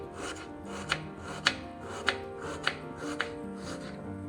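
A knife chops a medium-sized onion finely, giving a steady series of sharp taps about half a second apart against a cutting surface, close and fairly quiet, with no talking.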